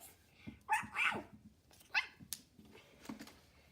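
A small dog barks a few times nearby, short yappy barks with a brief whimper, spread across a quiet room.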